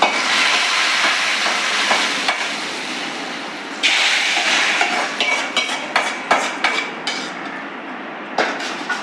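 Hot tempering poured into Tirunelveli urundai kuzhambu gives a loud, dense sizzle that surges again partway through, then settles into sharp clanks and scrapes of a metal pan and spoon.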